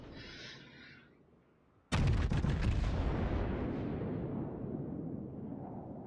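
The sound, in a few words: Yamato battleship guns firing, World of Warships video game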